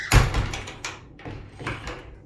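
A small cockatiel cage door shuts with a quick metallic clack, followed by softer rattles and light knocks of the cage wire, fairly quiet and close, no voices.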